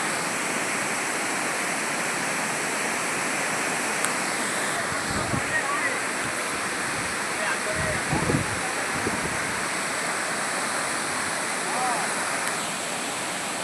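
A waterfall at a hilly temple site pours with a steady broadband rush, continuous and fairly close, with brief low thumps and faint voices around it.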